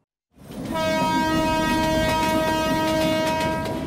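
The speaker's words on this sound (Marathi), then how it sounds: "मुंबईकरांच्या रोजच्या प्रवासातली जीवश्च कंठस्थ मैत्रीण म्हणजे लोकल ट्रेन।" A Mumbai local train rumbles close by and loud, with a sustained harmonic horn blaring over the rolling rail noise for several seconds, no voices.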